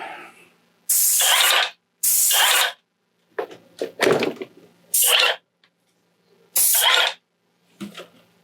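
A cordless airless paint sprayer set to about half pressure hisses in several loud, steady bursts of about a second each, separated by pauses and some quieter clicks and sputters from a partial blockage.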